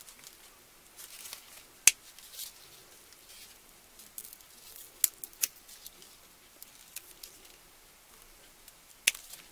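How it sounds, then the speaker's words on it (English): Quiet snips of scissors cutting artificial berries off a stem for a Christmas ornament, a few sharp isolated clicks scattered among faint rustling and handling noise. "And I'm going to cut all these berries off of this."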